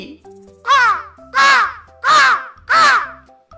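A crow in a cartoon caws four times in a regular rhythm, each call loud, harsh and close, separated by short pauses with faint background sound.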